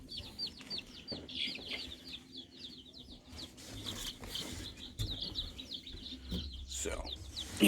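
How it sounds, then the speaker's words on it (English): Baby broiler chicks from a farm supply store peep in a dense, continuous chorus of high chirps close by, with rustling and handling noises and some low talk underneath. "Now we got our baby chicks from Tractor Supply."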